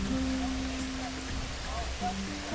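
A rain storm in Kenya hisses evenly throughout, with a low rumbling undertone and faint voices murmuring in the background.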